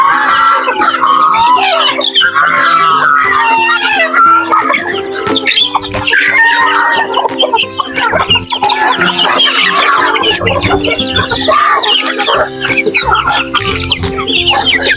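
Native chickens clucking and calling continuously in a busy flock, loud and close, with layered overlapping clucks and chirps throughout.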